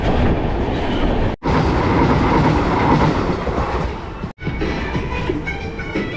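A passing Indian express passenger train rolls loudly along the rails near Chennai, its rhythmic clickety-clack and rumble steady and close, broken by two brief sharp gaps between cars.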